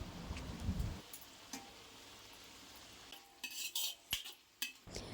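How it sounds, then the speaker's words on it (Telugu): Sliced onions being mixed into cooking chicken in an iron pan for fry piece biryani: a few quiet metal scrapes and clinks of a spoon against the pan over a faint sizzle, sparse and close. "ఇప్పుడు చికెన్లో ఉల్లిపాయలు బాగా కలిసేలా కలుపుకొని మూత పెట్టి 10 నిమిషాలు మగ్గనివ్వాలి"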